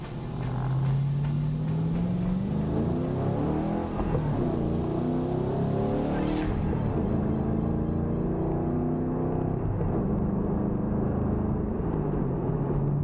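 A Ford Mustang fitted with a new short throw shifter, driven with a steady engine drone and rumble that rises and falls through gear changes, plus a short sharp click midway, no voices.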